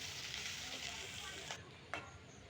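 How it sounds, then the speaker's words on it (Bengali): Onions frying in oil give a steady, soft sizzle, with a couple of brief clatters near the end. "ঝাল পেঁয়াজগুলো আমি একেবারে বাদামি কালার করে ভাজবো"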